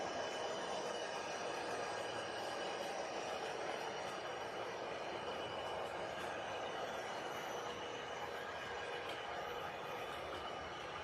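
Model trains running on a home layout, a continuous steady rumble with faint rail clatter and occasional squeals throughout, quiet and fairly distant, with no talk over it.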